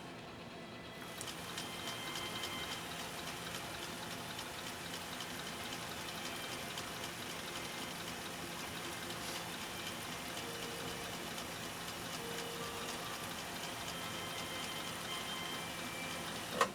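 Husqvarna Viking 2000 sewing machine stitching leather in slow gear, a steady low mechanical hum with a faint regular ticking from the needle, running evenly and close with no talk.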